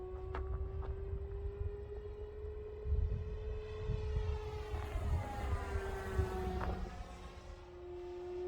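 RC Sportster model airplane built from printed parts making a full-throttle high-speed pass: a steady droning motor tone from a distance that rises and falls as the plane sweeps by, with no talk.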